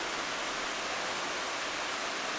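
Lace Waterfall at Natural Bridge, Virginia, pours in a steady broadband rush, a continuous even roar of falling water heard close with no voices over it.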